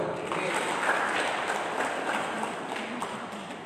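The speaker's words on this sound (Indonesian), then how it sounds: "Tepuk tangan buat kita semua." An audience at a Golkar party regional meeting in Lembata applauds steadily, a fairly even wash of clapping that carries on for the whole stretch at moderate volume.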